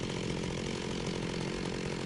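An electric chainsaw from the IndustrialCraft 2 mod in a Minecraft modpack game buzzes in a steady, continuous drone, loud and unbroken with no talk over it.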